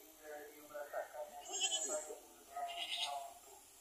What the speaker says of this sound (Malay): Kambing.